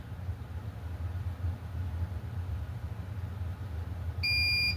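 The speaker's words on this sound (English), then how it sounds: "And it beeps to let you know when it's done." Steady hum of a heat press pressing a DTF-printed t-shirt at 330 degrees, with a short series of high electronic beeps near the end, clear over the background.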